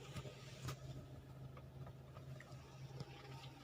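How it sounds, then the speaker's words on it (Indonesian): A manual car's engine idles steadily just after being started, a low continuous hum with faint ticking close by and no talking. "Saya nyalakan mesinnya."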